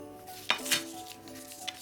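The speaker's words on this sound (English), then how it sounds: "It looks like a pie pan." Dollar Tree pie pan being handled, giving a couple of light metallic clinks and taps close by, otherwise quiet.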